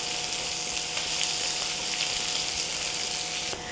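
Curry leaves, green chillies and a whole head of garlic crackle and sizzle steadily in hot oil as a tempering for an okra and egg fry, a close, continuous frying hiss with no talking.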